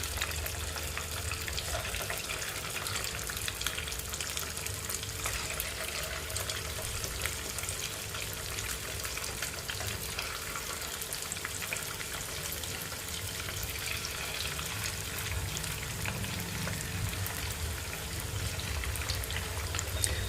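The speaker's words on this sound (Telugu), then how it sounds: "ఇలా ఒక్కొక్క పీస్ వేసుకుంటే బాగా వేగుతాయి." Chicken pakoda pieces fry in hot oil with a dense, continuous crackling sizzle that stays even and close throughout.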